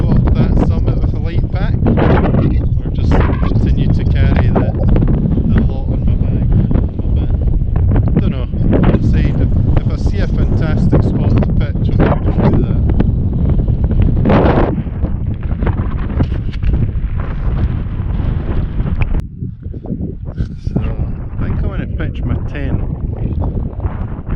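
Strong wind buffets the microphone on an open mountain hike in the East Cairngorms, a loud continuous roar with gusty surges throughout and a brief lull near the end, with a voice partly heard under it.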